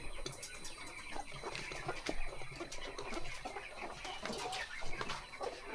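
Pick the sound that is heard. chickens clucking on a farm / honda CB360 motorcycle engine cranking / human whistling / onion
chickens clucking on a farm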